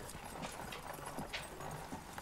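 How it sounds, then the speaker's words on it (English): Goat hooves clopping up stairs in a video game, a steady run of light hard clip-clop steps over a dense background bed, moderately quiet and close. "So I think goats can climb stairs."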